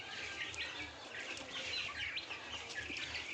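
A flock of 35-day-old Gavran country poultry chicks peep and cluck in faint, overlapping chirps, a soft busy chatter with occasional rustles and no voices.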